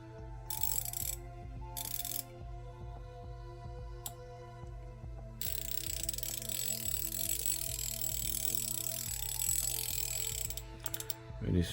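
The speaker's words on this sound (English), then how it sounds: "Very smooth operation for the 1/4 inch." A 1/4-inch Kobalt Pro 90-tooth ratchet clicks in fine, rapid runs of close mechanical ticking, broken by brief pauses, over a constant electrical hum.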